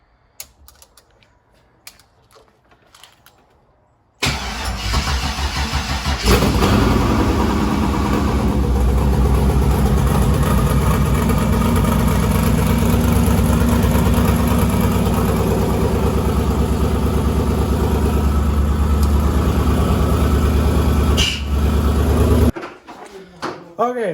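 A 4th gen Camaro engine cranks and fires up unexpectedly, then runs at a loud, steady rough idle for most of the time before cutting off, with voices faintly before it starts.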